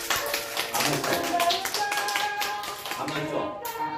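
Children and adults clap along at a daycare puppet show, a burst of quick overlapping hand claps and taps up close, with voices chattering over it.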